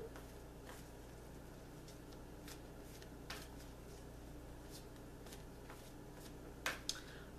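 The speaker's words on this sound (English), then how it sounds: "I'm going to keep shuffling." A deck of tarot cards is shuffled softly and close, with faint papery riffles and a couple of sharper snaps near the end over a low steady hum.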